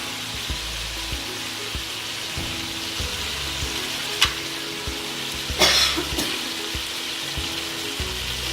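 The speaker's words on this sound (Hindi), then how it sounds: "और इसे थोड़ी देर के लिए भून देंगे" Mutton frying in a pot for a pulao, a steady soft sizzle throughout with a few brief louder bursts of spattering and stirring, close by and alone, no voices.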